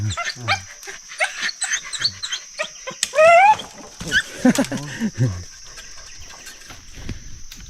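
Dogs bark in short sharp bursts, near and far, during an outdoor king cobra hunt, mixed with people talking and other scattered animal and rustling noises.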